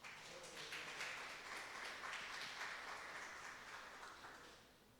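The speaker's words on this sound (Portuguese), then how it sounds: "Uma salva de palmas para vocês" A church congregation gives a round of applause, soft and distant, as dense even clapping that fades slightly toward the end, with no talking over it.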